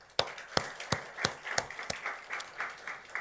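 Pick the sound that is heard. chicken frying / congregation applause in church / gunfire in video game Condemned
congregation applause in church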